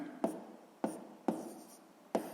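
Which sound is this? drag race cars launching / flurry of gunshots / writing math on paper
writing math on paper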